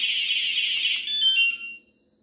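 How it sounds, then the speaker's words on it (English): Anti-theft alarm on a Himiway e-bike shrieking loud and close, a steady high electronic tone that briefly shifts pitch and then cuts off abruptly, with no talking over it. "there is the actual alarm"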